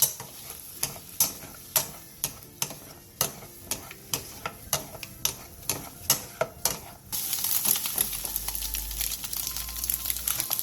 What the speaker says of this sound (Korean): 팬에 참기름 1스푼을 두른 뒤 삶은 메추리알 2판을 넣고 센 불에서